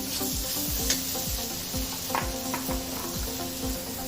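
A spoon stirs gongura and meal maker curry in a frying pan, with steady scraping strokes in a regular rhythm over a continuous sizzle, close up and without talk.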